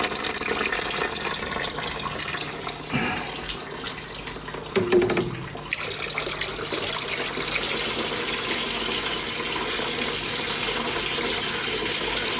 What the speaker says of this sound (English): I'm pouring quite fast now as well.